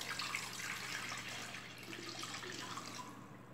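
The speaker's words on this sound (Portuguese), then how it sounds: "E vou colocar a água, 1 litro de água" Tap water running steadily into a cooking pot that already holds lemon, one litre poured as part of making brine, a continuous close splashing rush with no voices.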